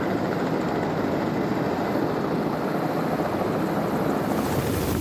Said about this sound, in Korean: 갑자기 헬리콥터 소리가 들렸습니다